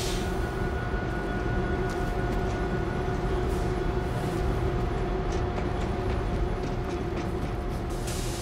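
A train in the video game World War Z Aftermath, set in New York, runs with a steady, loud mechanical rumble and sustained tonal hum, plus faint intermittent hisses and clanks throughout, with no talk.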